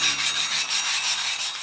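Wire brush scrubbing steadily in fast back-and-forth strokes, a close, continuous bristly rasp on the rims of a Unimog off-road truck during a tyre and rim upgrade, with no talking.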